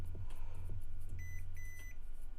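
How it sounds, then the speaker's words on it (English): Short electronic beeps from a laptop motherboard connected to charge on a repair bench, heard as a few brief high tones over a low, steady hum. "It should beep for a second"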